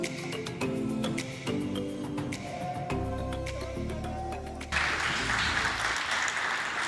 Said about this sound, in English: I'm glad that you led me with that applause